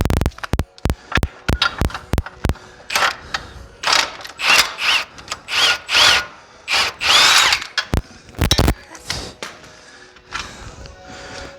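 A power tool removes a bolt from a 2008 GMC Acadia, giving sharp rattling bursts at first, then a series of rhythmic whirring pulses, loud and close.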